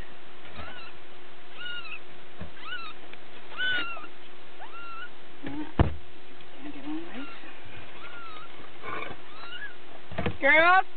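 Several small, high-pitched kitten mews repeat irregularly over a faint steady hum, with a soft thump and a brief cluster of squeaky cries near the end.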